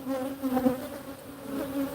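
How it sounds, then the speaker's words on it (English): Honeybees swarm around an open hive during an inspection of the colony, a dense, steady buzz with layered droning tones that swells and eases slightly, close and continuous with no voices. "just a bunch of bees"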